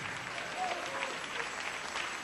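Church congregation applauding, a sustained dense clatter of many hands clapping with voices over it.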